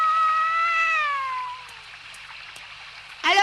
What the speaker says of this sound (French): Et le chat? Il bouge pas trop pour l'instant.